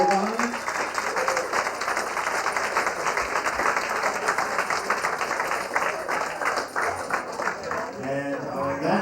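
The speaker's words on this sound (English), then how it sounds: "A little nice round of applause for Monte and Elizabeth." Wedding reception guests at L'Auberge Del Mar in San Diego give the couple a sustained round of applause, dense steady clapping filling the room for several seconds, with a voice coming in briefly near the end.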